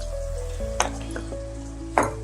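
Spices for a duck egg curry are stirred and fried in a pan, a sizzling bed broken by two sharp scrapes of a spoon, with steady tonal hum underneath.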